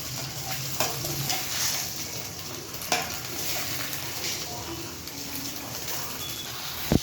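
Egg rice frying in a pan, a steady soft sizzle with occasional spatula scrapes and stirring clicks, close and moderately quiet throughout.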